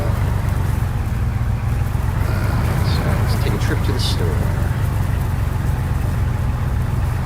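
Car driving in the video game DayZ, a loud steady engine rumble with rough, rattling texture that continues throughout while someone talks over it.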